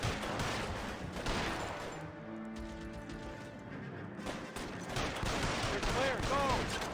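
Shootout gunfire in L.A. Noire Remastered, with dense cracking shots at the start and again near the end around a quieter gap, mixed with a voice talking.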